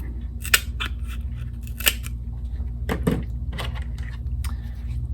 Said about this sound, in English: I'm gonna make a little snip.